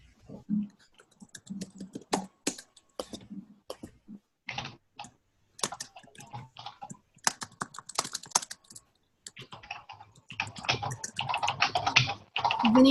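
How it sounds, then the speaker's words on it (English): Rapid, irregular keyboard typing with bursts of clicking keys, pausing briefly, then growing denser and louder toward the end. "I love the sounds of typing."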